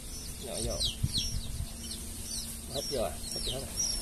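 Young hybrid jungle fowl chicks in a brood chirp in quick repeated high peeps over a constant low hum, with a couple of louder fluttery bursts nearby.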